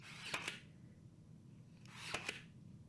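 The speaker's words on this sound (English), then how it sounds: "I'm just going to use my brad nailer to tack it in place" Two quick sharp mechanical snaps about two seconds apart from a brad nailer tacking a wood piece in place, each a crisp pneumatic-sounding click over a low room hum, no talking.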